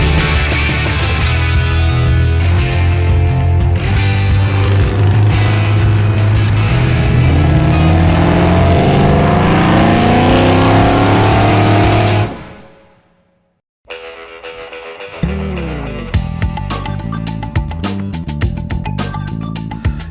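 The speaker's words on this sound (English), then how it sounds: "it's hard not to feel good when you're behind the wheel of a 70 Challenger" A 1970 Dodge Challenger drives with a loud, steady engine roar that climbs in pitch through a long acceleration, drops off abruptly into near silence, then comes back with renewed engine noise and shifting revs.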